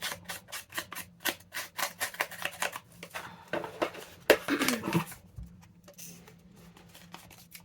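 Scissors trim excess paper from a decorated paper bag junk journal page in a quick run of crisp, close snips, then a few slower cuts with rustling paper and quiet pauses.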